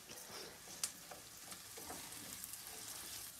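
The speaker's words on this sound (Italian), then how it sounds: "adesso quando che comincia a cantare senti che ti sfrigola dentro sulla teglia" Rice toasting for risotto sizzles in a pan: a faint, continuous crackling hiss with small pops and stirring scrapes. It sounds close but soft, and no one speaks over it.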